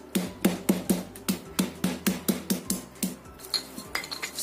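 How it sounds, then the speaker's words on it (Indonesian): Garlic cloves pounded and ground by hand in a mortar with a pestle, a quick series of about fifteen sharp, close knocking strikes in a steady rhythm with no talking. "Ini kita ulek sampai halus."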